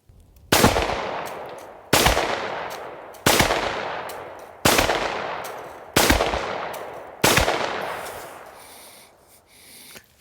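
Six loud, evenly spaced shots from a Rock Island Armory RIA 5.0E 9mm pistol fired at an outdoor range target about 15 yards away, each sharp crack followed by a long reverberant decay.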